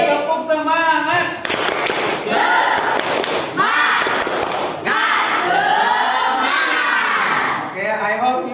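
A class of students performs a rhythmic spirit clap during a school lesson, loud clapping in bursts with shouted voices and chanting over it, close and lively.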